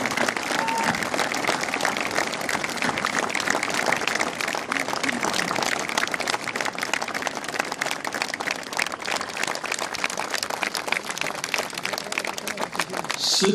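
An audience at a commemorative ceremony breaks into sustained applause, dense, steady clapping from a large crowd that stays loud and even throughout with faint voices mixed in.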